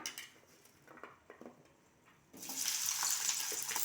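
Sliced large onions hit a pan with a little hot oil: after a few soft clatters, a steady, fairly loud sizzle begins about midway and continues to the end.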